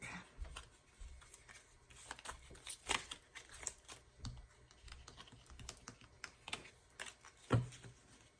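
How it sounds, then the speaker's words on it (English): Faint, quiet ticking and flicking of tarot cards being shuffled, irregular soft taps and riffles close by, with no talking. "If I can shuffle it."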